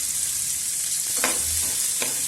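Cumin seeds and chopped onion frying in a spoonful of oil in a pan, a dense steady sizzle throughout, with a couple of brief scraping stirs near the end.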